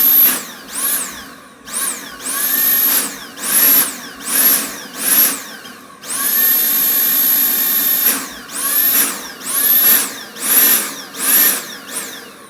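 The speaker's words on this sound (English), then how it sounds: "Let's put this part back together, see if it runs." A Dyson V8 cordless vacuum cleaner whines up to a high pitch and cuts out again and again, a loud, close motor pulsing in repeated bursts with one longer steady run in the middle.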